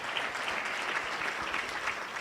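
An audience at a Polokwane breakfast event welcoming Miss South Africa 2022 claps together, a steady, even wash of many hands at moderate distance with no break and no talking over it.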